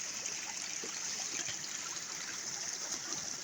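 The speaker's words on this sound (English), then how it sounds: "Little mini waterfall." Small mountain stream spilling over a mini waterfall on a hiking trail, a steady close rush and trickle of water running throughout without pause.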